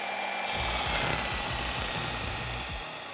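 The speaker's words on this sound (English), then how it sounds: "All we're really doing with this belt is we're getting rid of the grit from the previous belt and refining the edge further." A knife edge is ground on a fine-grit abrasive belt of about 700–800 grit, giving a steady close hissing rasp with faint low scraping pulses that runs for roughly three seconds after a quiet start.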